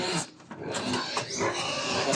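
Agitated farm pigs squeal and grunt in loud, overlapping bursts, a harsh continuous chorus close by with no clear pauses.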